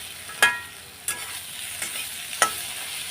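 Spice powders, including Kashmiri chilli powder, fry in a pan with a low, steady sizzle broken by three or four sharp scraping stirs of a spoon against the metal.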